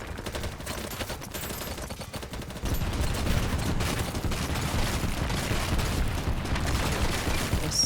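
Dense gunfire in a video game, rapid overlapping shots and bursts forming a constant loud barrage that intensifies partway through, with explosive booms mixed in.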